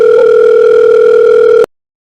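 A phone gives off a steady electronic tone, one continuous loud beep-like ring held for about a second and a half before cutting off abruptly into silence.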